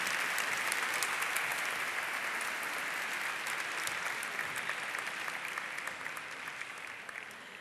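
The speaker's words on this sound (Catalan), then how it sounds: "Un fort aplaudiment" Steady applause from an audience at a university graduation ceremony, dense and continuous clapping that holds throughout and fades slightly toward the end.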